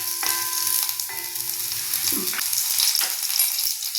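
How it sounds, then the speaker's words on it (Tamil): Small shallots and garlic sauté in a hot pan, a steady close sizzle with faint crackles and a few soft metallic scrapes, no voices. "சின்ன வெங்காயம் வெள்ளைப்பூடும் போட்டுக்குவோம்."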